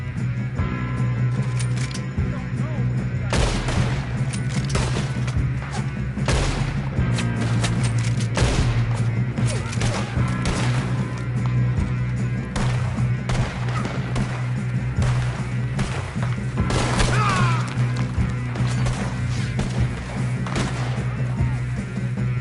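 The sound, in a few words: gunfire in video game Red Dead Redemption 2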